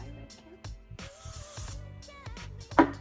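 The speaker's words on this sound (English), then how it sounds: "Just a little spray through the ends." A brief hiss of Redken Triple Dry hairspray misted through the ends of curled hair lasts about half a second, set among quieter handling sounds and a voice talking.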